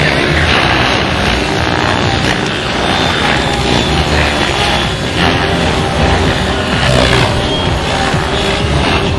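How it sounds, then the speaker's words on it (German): A stretched 450-size T-Rex RC helicopter flies past with a loud, steady high-pitched rotor and motor whine that fills the whole clip, with no voices. "der kleine 450er T-Rex hier, der gestretcht ist, über 190 Stundenkilometer schnell."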